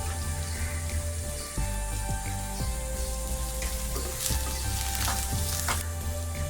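Onion frying with green chilli and curry leaves in a rice dish, a steady close sizzle and crackle that runs the whole way, with a few clinks of a spoon stirring against the pan.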